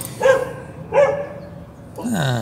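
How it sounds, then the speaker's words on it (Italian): A neighbour's dog barks outside near a camper, two sharp barks about a second apart followed by a longer whining yelp, fairly close and clear with no talk over it. "c'è il mio cagnolino fuori"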